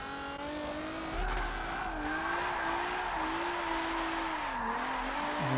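A car drifting on a grassroots track, slowed with the brakes rather than a handbrake, its tires squealing and skidding in a long wavering whine over steady engine noise, close and continuous.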